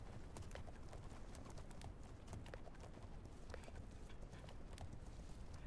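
Steady clip-clop of a stocky mountain horse's hooves in the video game The Legend of Khiimori, a brisk, even rhythm of soft hoof knocks over an outdoor ambience with faint bird calls, no talking.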